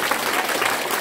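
A brief burst of audience applause for a council member at a lively pre-Ramadan sermon gathering in Bagan Batu, dense and fairly loud clapping from a crowd.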